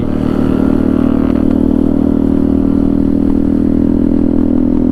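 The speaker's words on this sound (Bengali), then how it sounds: "আমার বাইকের সাউন্ডটা এমন" A motorcycle's engine and exhaust drone loud and close, a steady low rumble with constant mechanical clatter and no talk.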